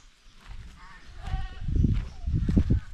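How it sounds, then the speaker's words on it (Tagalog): Three young goats without a mother bleat near a napier grass planting on a small farm, several short cries rising in a loose cluster over rustling background noise. "Yung tatlo nating kambing, oh."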